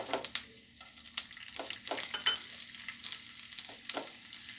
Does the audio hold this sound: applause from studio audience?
no